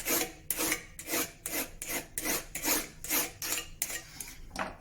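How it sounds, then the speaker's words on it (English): A steel file rasps in repeated push strokes across the edge of a card scraper clamped in a vise, roughly ten evenly spaced scraping strokes, close and clear with no talking. "get it in a vise, run your file over it"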